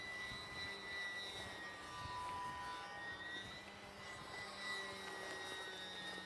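A small RC P-47D model plane's electric motor at full throttle on a 3S battery, a steady high whine with shifting tones in the air, faint and continuous throughout.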